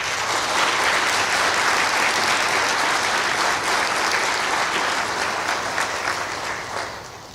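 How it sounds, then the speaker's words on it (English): Sustained, dense applause from a graduation audience at an adult education ceremony, loud and steady for several seconds before tapering slightly at the end, with no talking over it. "Can you please have a round of applause for all our graduates?"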